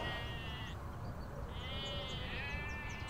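Sheep bleat in an open field, several calls overlapping at moderate distance over steady outdoor wind noise, with no talk.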